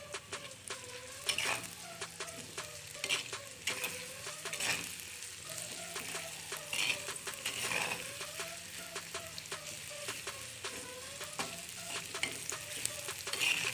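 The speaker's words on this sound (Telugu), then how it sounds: "మనం దీన్ని బాగా ఫ్రై చేసుకోవాలి." Small chopped capsicum frying in a pan with oil, a steady sizzle broken up by repeated scraping stir strokes, close and moderately loud, with no talking.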